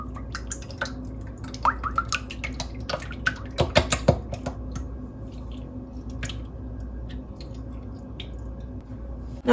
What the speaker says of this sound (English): To a bowl, I'm gonna add 1 box of heavy cream.